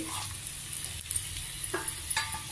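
Stuffed ivy gourds coated with a gram flour, chili and salt mix fry quietly in a pan, with a faint steady sizzle and a few soft stirring scrapes.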